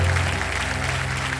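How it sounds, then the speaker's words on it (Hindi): Studio audience applause on the Kaun Banega Crorepati game show, a soft, even wash of clapping heard over low sustained music tones, starting a little stronger and settling to a steady level. "तालियां बज जाए जोरों से।"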